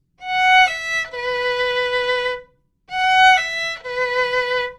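A violin plays a short mariachi melodic phrase twice, clean separate notes with no sliding between them, clear and close, a brief pause in between.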